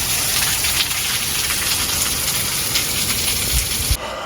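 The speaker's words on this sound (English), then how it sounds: "Rain is heavier." Heavy rain from Hurricane Milton pours down in a dense, steady hiss with scattered splashing drops, loud and close throughout with no talking.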